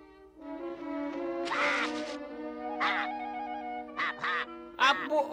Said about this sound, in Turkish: Bu o turna kuşu.